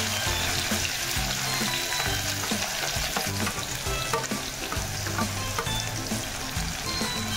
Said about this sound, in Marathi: कांदा छान गुलाबी रंगावर परतून घ्यायचा आहे